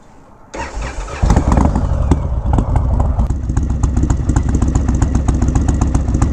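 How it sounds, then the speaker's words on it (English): A motorcycle with an Indian 116 engine and a new air cleaner starts up and settles into a loud, close, lumpy idle with an uneven, throbbing pulse. "Let you guys hear the idle."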